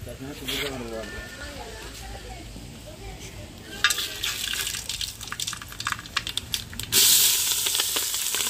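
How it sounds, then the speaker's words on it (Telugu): Pulao spices, green chilies, tomato and onion stirred and frying in a pot, with scraping, sizzling and a burst of liquid splashing near the end, all close and under steady talking. "పలావ్ దినుసులు, పచ్చిమిరపకాయ, టమాటా, ఉల్లిపాయ ఇవన్నీ వేసేసి తిప్పేసుకున్నాం"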